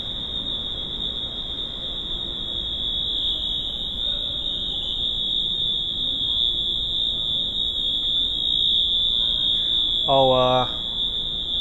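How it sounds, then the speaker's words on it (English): A fire alarm at Orlando International Airport sounds a steady, piercing high-pitched electronic tone throughout, over faint background noise, with a brief voice near the end. "This fire alarm is so annoying."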